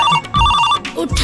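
A telephone rings loudly and close by in short repeated electronic bursts, broken by brief gaps, with some faint voice sounds around the rings.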